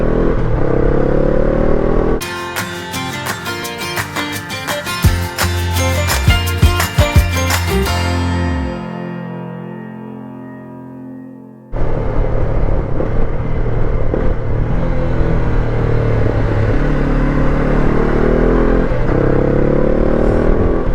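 A Honda NX500 motorcycle fitted with a new aftermarket exhaust end can drones loudly up close, cuts to a rattling rev and fading idle, then roars back in with a steady rumbling run.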